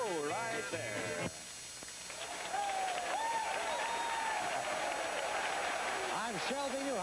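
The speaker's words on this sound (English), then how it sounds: "if you can hear me over the enthusiastic response of this crowd behind me" A square dance convention crowd applauds and cheers as a steady, loud wash of sound, heard under and around someone talking in a 1961 Detroit broadcast.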